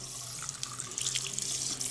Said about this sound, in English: then filling with water, and then rinsing back